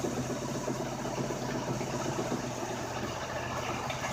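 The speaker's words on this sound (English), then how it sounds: "It's just idling, no choke. Just started up, cold started." An engine idles steadily after a cold start without choke, a close, even low rumble with rapid pulsing and no voices.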